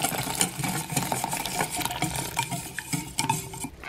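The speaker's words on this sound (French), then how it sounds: "Je mélange jusqu'à ce que mon chocolat soit entièrement fondu." Spoon stirring hot orange-blossom-infused cream into melting chocolate in a bowl, a steady close scraping and swirling with light clinks of utensil against the dish, no voices.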